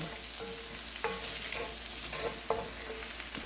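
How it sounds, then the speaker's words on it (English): Garlic sautéing in a pan sizzles steadily while a utensil stirs and scrapes at intervals, a close, even frying hiss with no one talking. "you're just going to cook your garlic until it's fragrant"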